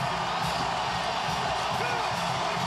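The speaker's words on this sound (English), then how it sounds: "The crowd is loving it." Tennessee Volunteers fans fill a stadium with cheering at the 2009 college football game against South Carolina. The roar is thick and continuous, with occasional whoops rising from the mass of voices, loud and sustained.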